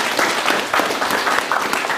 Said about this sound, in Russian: Заслужил эти аплодисменты